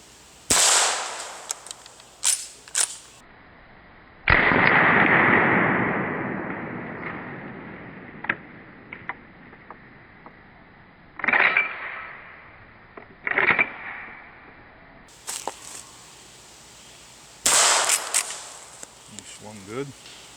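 Several sharp rifle shots from a Taurus Thunderbolt are fired at reactive targets outdoors. They come in irregular bursts, loud and close, with ringing echoes and impact noise fading between shots. A person speaks briefly between them.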